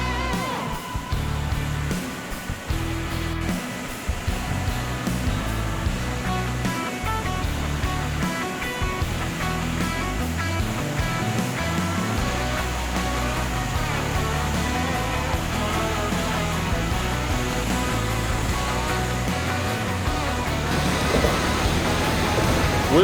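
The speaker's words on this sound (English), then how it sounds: "I'm gonna record some of this whitewater because this is gnarly" Whitewater rapids rush down a river in the Colorado mountains as a continuous, loud, broadband roar that fills the whole stretch, with no voices.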